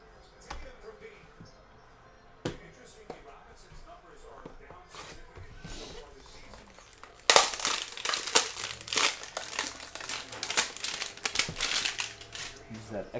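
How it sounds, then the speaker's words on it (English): A retail hanger box of 2021 Prestige football cards being ripped open, heard as a sudden loud burst of tearing and crinkling cardboard and plastic packaging that continues in rough, close bursts after quieter handling, with a voice talking. "Let's rip open that box."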